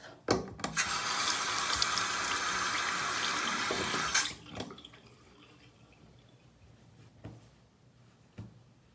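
Hands are rinsed under a running bathroom sink tap to wash off sunscreen, a steady close gush of water for about four seconds that then shuts off, followed by a few faint knocks and taps.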